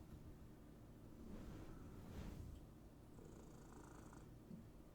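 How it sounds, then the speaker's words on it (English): A cat purrs softly and steadily close to the microphone, a low rhythmic rumble with faint background noise and no talk. "they're very excited to hear a cat"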